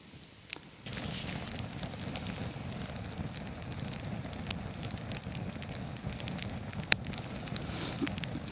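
A campfire crackles steadily nearby, with sharp pops and snaps over a soft rushing roar of flames.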